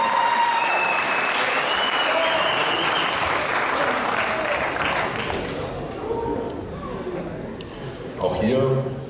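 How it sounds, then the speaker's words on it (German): Audience at a German bodybuilding championship applauding: loud, sustained clapping that thins out midway, with talk over it and a brief burst of clapping near the end. "Dankeschön für euren Applaus."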